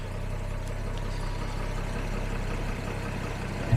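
A 1966 Jaguar S-Type engine idles steadily with the choke switched off, a low, even rumble heard close up and fairly quiet, with no talking.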